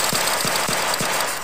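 Toy AK-47 gun firing, four rapid evenly spaced electronic bursts over a loud continuous buzzing hiss.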